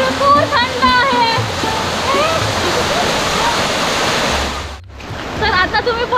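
A waterfall beside the Waghjai temple on the Andharban jungle trek roars loudly and continuously. Birds call over it at first, and the rush dips briefly before swelling again.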